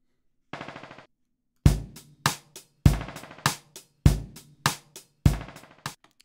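Ableton Live Beat Repeat effect with decay applied to a drum hit, a sharp percussive sound repeated in rhythmic bursts, each group of repetitions getting quieter as it fades out.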